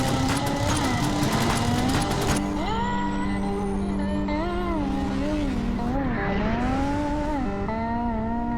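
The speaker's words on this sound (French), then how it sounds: "Moteur en marche, commandant." Shuttle engines running in the video game Genesis Alpha One, a loud, continuous mechanical roar with a shifting, wavering tone that changes pitch repeatedly over a dense rumble.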